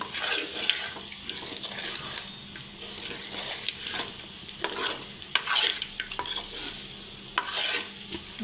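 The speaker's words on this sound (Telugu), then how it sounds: "చూడండి అడుగంటకుండా ఇట్లా తిప్పుకోవాలండి చూడండి ఇది అడుగంటకుండా ఇట్లా చక్కగా తిప్పుకుంటూ ఉంటే బాగా ఫ్రై" Farm chicken frying in a pan sizzles steadily while a utensil stirs it, with repeated scraping and clinking strokes against the pan bottom, close and rhythmic, and no talk over it.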